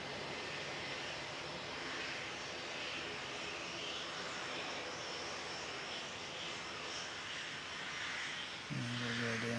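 An aircraft engine runs on the taxiway at the Canterbury Aero Club in strong winds, a steady broadband roar with wind noise throughout and a low tonal hum swelling near the end.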